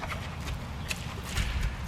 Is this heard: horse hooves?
yes